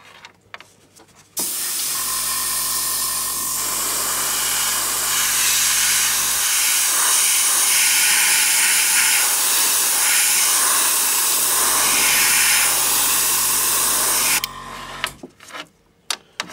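A spray can lays clear coat onto foam miniature terrain pieces for a Warhammer 40,000 Eldar defence line, giving a steady, loud, close hiss that runs unbroken for about thirteen seconds before cutting off.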